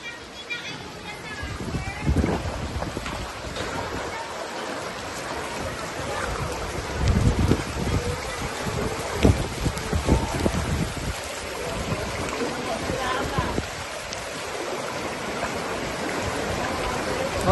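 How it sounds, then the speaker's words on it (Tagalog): A strong current of floodwater rushes through a flooded residential subdivision in Laguna, a continuous moderate gushing and churning with a few louder surges, steady from start to finish. "Mga boss, malakas ang agos dyan, ha?"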